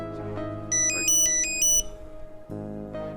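A phone ringtone plays a short bright electronic melody twice over a steady hum, with a brief gap between bursts.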